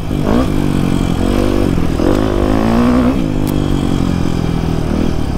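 A father's motorcycle engine revs and drops through loud, close gear changes, with a clattering mechanical note and brief throttle blips over steady engine roar.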